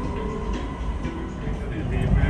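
A Kuala Lumpur metro train hums and rumbles steadily from inside an open-gangway carriage, a constant loud drone with people talking over it.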